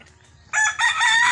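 A rooster on Bantayan Island crows loudly and close by, its call beginning abruptly after a quiet moment and running to the end with a brief dip in the middle.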